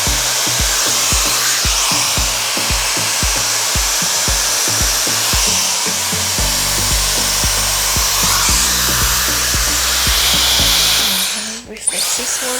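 A viral TikTok hair styling gadget blows steadily and loudly on raised heat and fan settings, a dense whooshing airflow with a faint rhythmic low pulsing underneath, easing off briefly near the end.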